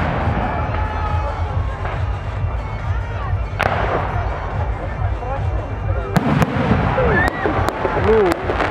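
Large-calibre fireworks salute at the 2018 city day celebration in Polotsk, booming and crackling bursts in quick succession over a murmuring outdoor crowd, with people talking nearby.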